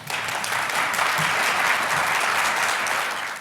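Sustained audience applause at a high-level roundtable on Black health, following an opening speech; a dense, steady wash of clapping from a crowd that fills the whole stretch without any voices.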